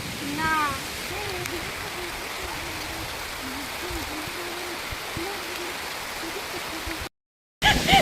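Heavy rain pours steadily and loudly, heard from under a tree near a pond, a dense unbroken hiss throughout, with a few brief voice-like tones early on before a short dropout near the end.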